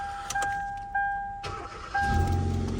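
A car suspected of bad rod bearings and coated in degreaser sounds a few electronic warning chimes. Its engine then cranks and catches into a low, close rumble that builds toward idle, with no one talking.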